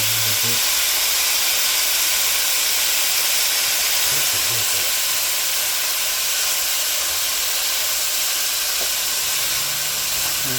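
Beef for a Nagashima beef stew sears in a pan with its seasoning toasting, giving a loud, continuous broad hiss that holds steady from start to finish.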